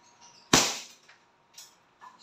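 A single sharp report from a WE Hi-Capa T-Rex airsoft pistol fired into a chronograph, close and loud with a quick decaying tail, followed by faint clicks and a short silence.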